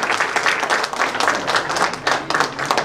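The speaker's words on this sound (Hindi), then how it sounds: "हम ताली बजाकर अजय चौधरी जी का स्वागत करें।" A seated audience claps together to welcome Ajay Chaudhary onto a stage at a solar energy event, a steady dense patter of many hands filling the space for a few seconds without a break.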